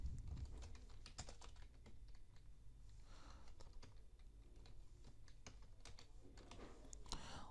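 Keys clatter on a computer keyboard as a registration form is filled in for an NGO or charity in Pakistan, with steady, irregular close taps running throughout at a soft level and no talk.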